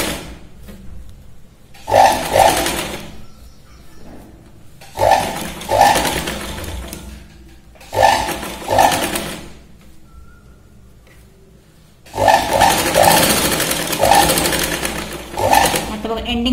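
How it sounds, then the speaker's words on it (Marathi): A sewing machine stitches the back seam of a blouse at the shoulder, running in four bursts: three short runs, then a longer one with brief quiet pauses between them. "शिलाई लावतोय."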